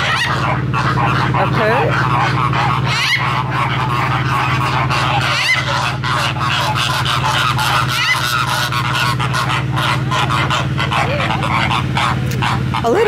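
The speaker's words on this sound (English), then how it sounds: "That's a macaw up there." Zoo macaw giving harsh, repeated squawks over a noisy background of other animal calls, with a person speaking briefly.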